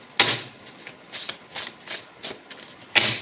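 Cards being shuffled for a card reading: a run of crisp riffling bursts and soft flicks, close and fairly loud, with short pauses between shuffles and no speech.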